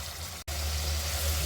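Batter mixture fries in hot oil with browned onions and garlic, a dense, steady sizzling hiss close up that breaks off for an instant and then resumes just as loud.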